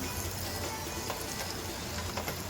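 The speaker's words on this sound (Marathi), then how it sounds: "त्यामुळे टोमॅटो चांगला परतून घ्यायचा" Chopped tomato sautéing in oil in a pan for Punjabi paneer bhurji gives off a soft, continuous sizzling hiss, fairly quiet and even throughout, with no voices.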